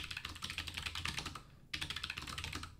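Rapid clicky keystrokes on a Hexgears X-1 low-profile wireless mechanical keyboard, close and continuous, with a short pause midway before the typing resumes.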